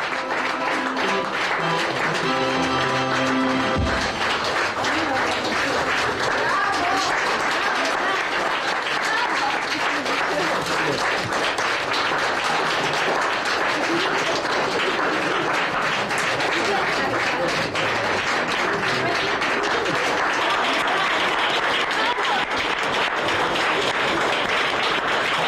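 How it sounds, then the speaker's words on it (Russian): Loud, sustained audience applause at a Christmas beauty pageant fills the room for the full stretch, a dense wash of clapping that follows a brief musical flourish at the start. "Аплодисменты в этот замечательный вечер стихать не должны."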